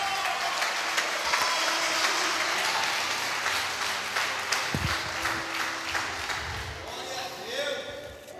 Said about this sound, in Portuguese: Agora pode aplaudir a Ele.